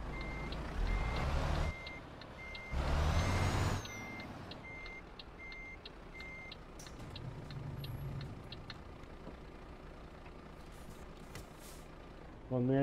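A Volvo FM 2009 truck in Euro Truck Simulator 2 sounds a steady series of reversing beeps over a low engine idle while parking, interrupted by two louder bursts of rumble and air noise, with no talk.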